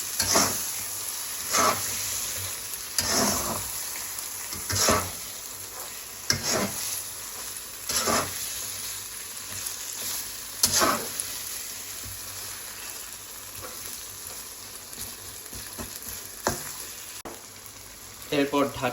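Beef cooked with spices sizzles and fries in a pan while being stirred, with repeated scraping strokes of the spoon against the pan over a steady hiss, close and fairly loud.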